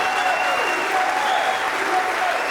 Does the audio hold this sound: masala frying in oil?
no